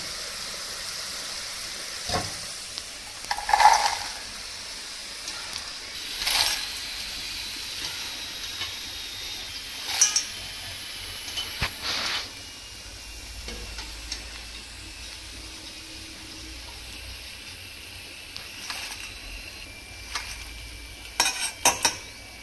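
Chickpea pakoras frying in hot oil, a quiet steady sizzle with occasional stirring clinks and scrapes at irregular intervals.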